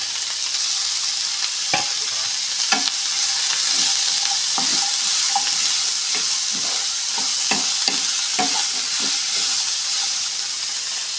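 Small carrots, capsicum, green chilli and potato stir-fried together for vegetable biryani. Loud, steady hissing sizzle runs throughout, with repeated clacks and scrapes of stirring, close up and with no talking.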